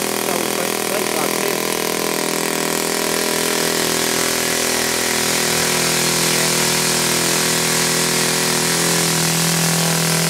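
A Saito FA 80 four-stroke model engine runs smoothly at a steady, loud, high-pitched drone with strong even harmonics, holding constant throughout without any rattle.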